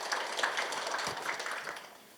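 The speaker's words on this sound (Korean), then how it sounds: "큰 박수로 맞이해 주시기 바랍니다." Applause from attendees welcoming a neighborhood association chairperson at an expanded staff meeting, a steady wash of clapping from a small group lasting throughout, moderately quiet and without talk.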